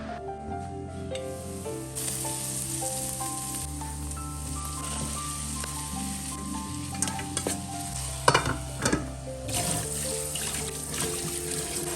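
Onions with crushed green chili, ginger and garlic sauté in a pan, giving a continuous close sizzle with scraping stir strokes and occasional spatula knocks, no talking.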